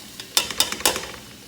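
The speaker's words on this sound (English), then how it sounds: "So you can hear that sizzle." Onions sizzling in a hot pan with a few sharp crackling bursts, close and fairly loud, fading to a softer hiss.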